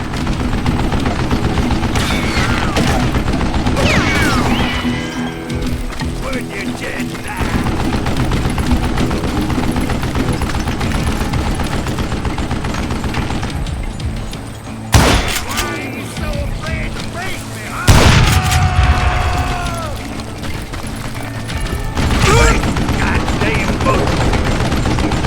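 Gunfire in the Western shooter Call of Juarez: Gunslinger: a mounted gun rattles off bursts amid mechanical clanks, dense game noise and occasional sharp impacts, loud and continuous.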